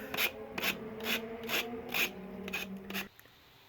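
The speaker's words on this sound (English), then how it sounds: "What I love about using the sanding block is it follows the contours of your design so well" A sanding block rubs over napkin decoupage on a shell in short rasping strokes, about six evenly spaced scrubs close up, then stops abruptly leaving near silence.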